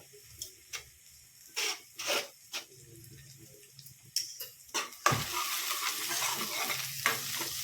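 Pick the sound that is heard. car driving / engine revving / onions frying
onions frying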